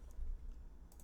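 A few faint, quick keystrokes on a computer keyboard while typing in code, with light clicks clustered at the start and end of a short, quiet moment.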